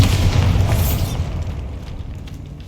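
A loud, booming Bombarda spell explosion in Hogwarts Legacy inside a tomb, with a sharp burst that rolls into a rumbling decay and debris settling for about two seconds.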